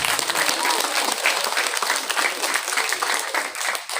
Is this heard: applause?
yes